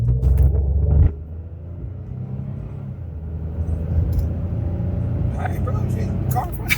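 A Pontiac G6 car accelerates hard from a stop toward 60, its engine rumbling loud and steady up close, with a burst of noise at the start, a dip, and then rising drone.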